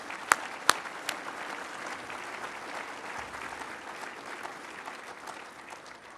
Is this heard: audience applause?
yes